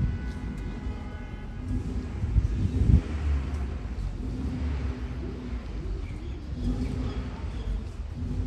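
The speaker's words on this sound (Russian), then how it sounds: "Немножко шумно, что машины здесь гудят" Car traffic hums steadily around a residential courtyard of apartment blocks in Shymkent, Kazakhstan, with a louder passing vehicle swelling near the middle and a continuous low engine drone throughout.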